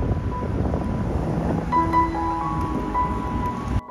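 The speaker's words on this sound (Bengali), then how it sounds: "এখানে এতটাই হাওয়া দিচ্ছিল যে আমরা বেশিক্ষণ দাঁড়াতেই পারলাম না।" Strong wind blows at a frozen lake in Denmark, a constant loud rushing roar buffeting the microphone, with faint faraway tonal sounds midway.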